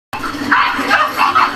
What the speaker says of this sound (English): They barking. They got all that bark with no bite.